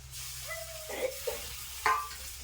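Bitter gourd frying in a pan with onions and masala, with a soft sizzle punctuated by a few brief stirring scrapes and clinks, close and fairly quiet, no talk.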